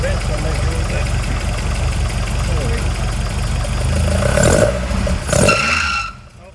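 A 1979 Ford Escort RS2000 engine runs at a steady, loud idle close by, with a couple of brief revs near the end before it cuts off.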